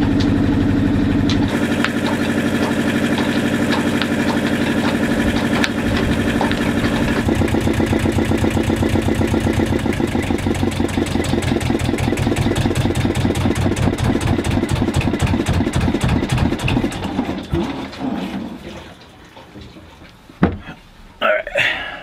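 A sailboat's inboard engine idles steadily to warm up before an oil change, a loud continuous mechanical chug with rapid regular firing pulses that fades and stutters toward the end as it shuts down.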